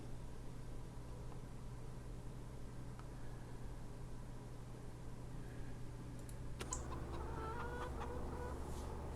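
Chickens cluck steadily over a constant low hum, with a burst of sharper clucking and squawks near the end; synthetic, game-like ambience.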